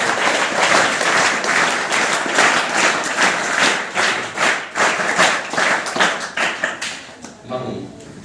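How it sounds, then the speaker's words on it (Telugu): An audience claps steadily at a public gathering, the applause loud and continuous before tapering into scattered claps near the end, with speech mixed in. "చప్పట్లు కొట్టండి."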